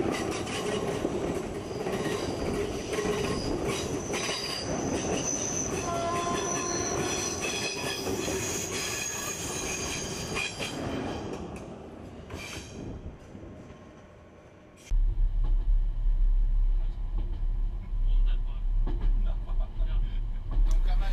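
The Zackenbahn mountain railway train runs toward Niederschreiberhau station with loud wheel squeal and rolling rail rumble, then the squeal fades and a steady low, close running drone continues.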